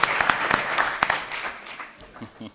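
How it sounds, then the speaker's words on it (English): Audience at a township committee reorganization meeting applauds the mayor: a short burst of hand claps, fairly close and loud, thinning out and fading within a couple of seconds. "I think she deserves another round of applause"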